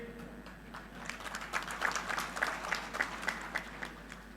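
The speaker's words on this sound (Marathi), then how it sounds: "ज्यांच्या आगमनामुळं आपण सर्वांनी खूप जोरदार टाळ्या वाजवल्या ते आदरणीय दिलीप रत्नाई दत्तात्रय मोहिते पाट" A crowd applauds at a political rally, a burst of clapping that swells and fades over a few seconds, heard from a moderate distance with a faint hum beneath.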